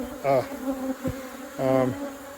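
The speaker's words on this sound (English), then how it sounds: "These bees are really getting after me after I went through that box just then." Agitated honeybees swarm around a beekeeper working a hive box, their buzzing rising in two loud, close bursts with a steady drone between them and a brief thump in the middle.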